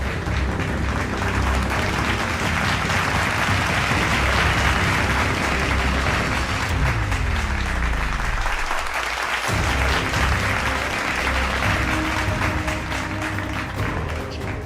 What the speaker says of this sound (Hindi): पहले तालियों के साथ ज़ेलेंस्की का स्वागत हुआ।